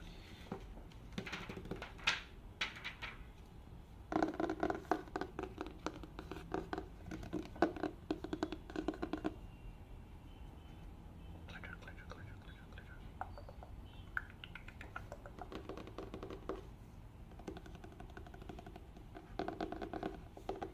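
Book pages being turned during a quiet ASMR reading, soft papery scratches and brushing handled close to the microphone, with a whispering voice running underneath.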